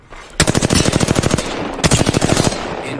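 Automatic gunfire in the video game Apex Legends rattles out in two loud rapid bursts, each a fast run of sharp shots, with a short pause between them and no talk over it.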